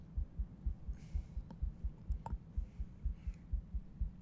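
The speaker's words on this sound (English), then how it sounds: "I still hear my heart beating." Steady, looping heartbeat effect from the horror game Granny, with low thumping double beats repeating evenly throughout, fairly loud and alone with faint ambient tones above.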